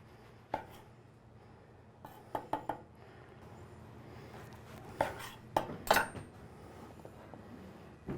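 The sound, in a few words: knife cutting the top off a bread roll bowl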